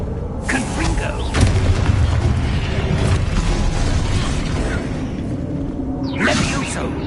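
Hogwarts Legacy's Confringo fire spell going off as a loud booming blast with a whooshing tail, swelling again near the end amid busy game noise.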